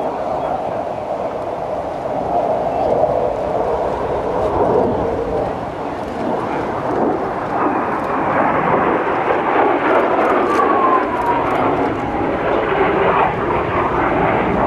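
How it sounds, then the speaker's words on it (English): An F/A-18F Super Hornet fighter jet roars past at over 400 mph, a broad rushing drone with shifting whine that swells and slowly changes pitch, loud and sustained over several seconds. "Now let's listen to how quiet this airplane is at over 400 miles per hour"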